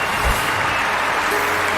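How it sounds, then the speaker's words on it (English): Stadium crowd applauding in a London 2012 Olympics video game, a steady wash of clapping and cheering noise heard at a constant level throughout, with no single voice standing out. "Plenty of crowd support here."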